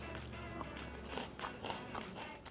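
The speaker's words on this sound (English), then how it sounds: "The crunch is good." Someone chews a grilled corn and raw snap pea salad, soft close crunching bites repeating unevenly over a low background hum.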